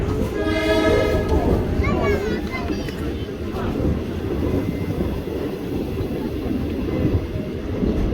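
A Ugandan passenger train running through Kampala, with a rumbling carriage roar throughout, a horn blast near the start, and people talking over the ride noise.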